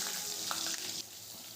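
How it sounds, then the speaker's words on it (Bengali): A brief, steady sizzling hiss of cut potatoes frying in hot oil with black cumin seeds, close by, with no voices. "আলুটাও একটু ভালো করে ভেজে নেব"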